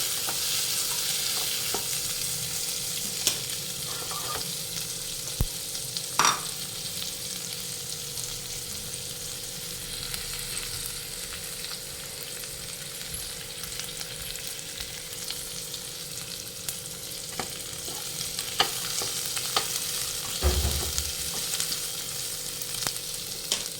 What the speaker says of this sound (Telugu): బాగా ఫ్రై కాకుండా కొంచెం ఎరుపు రంగు వచ్చే వరకు వీటిని ఫ్రై చేయాలి